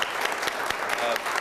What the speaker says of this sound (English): Let's give Betty a big round of applause.